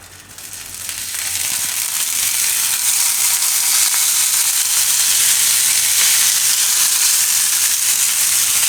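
Maggi pudla batter sizzling on a hot griddle over low gas, a steady bright frying hiss that swells in the first second and then holds evenly and close.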